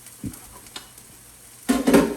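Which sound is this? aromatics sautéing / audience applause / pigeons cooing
aromatics sautéing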